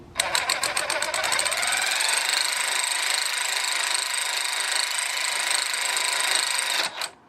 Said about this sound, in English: I'm going to go ahead and tighten the bolt, but we're not going to torque it yet